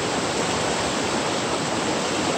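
A river swollen with abundant rainwater rushes past in a dense, constant roar of flowing water, loud and close, with no talking over it.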